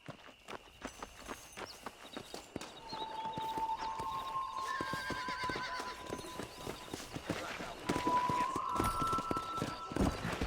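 A horse ridden in the Red Dead Redemption video game, rhythmic hoof clip-clop building into a quicker gait, with drawn-out whinnies and faint background music.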